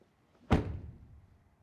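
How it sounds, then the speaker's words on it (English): A single solid thunk as the door of an Audi RS5 Sportback swings shut, sharp and close against a quiet background, with a short low resonance fading after. "Let's start with the door closing sounds."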